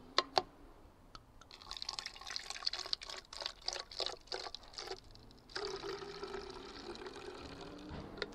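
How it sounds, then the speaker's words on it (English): Apple cider vinegar poured into a plastic bottle for a fly trap, with a few close knocks at the start followed by a steady gurgling, splashing stream that builds toward the end, with no talking. "What I do now is fill this to 1/3 with the apple cider vinegar."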